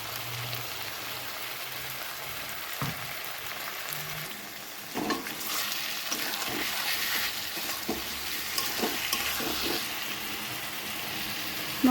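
Ground spice paste frying in a pan with a soft, crackling sizzle that swells louder partway through, with occasional stirring clicks and no speech.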